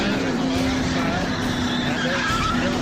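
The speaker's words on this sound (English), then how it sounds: "But this crash is going to involve several cars." NASCAR race cars skid and crash in a multi-car wreck, a dense, continuous wash of roaring engines and tire squeal heard from a distance with steady broadband noise throughout.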